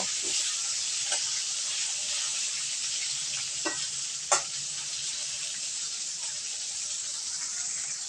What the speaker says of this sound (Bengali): পটলগুলো একটু ভালোভাবে ভেজে নেব